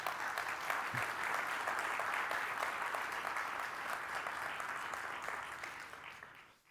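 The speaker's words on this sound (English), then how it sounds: "So let's give them a big round of applause." Sustained audience applause at a Coinbase crypto event in India, a dense, even wash of many hands clapping close and loud, fading away at the very end.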